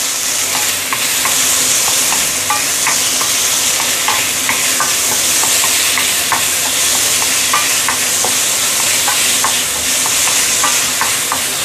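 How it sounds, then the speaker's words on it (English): Onion and tomato stir-fried in a hot pan for a sweet and sour pomfret dish: a steady, loud sizzle with repeated spatula scrapes and stirring knocks, close up and without any talking. "Once you smell the flavor, you can put in the big onion, tomato,"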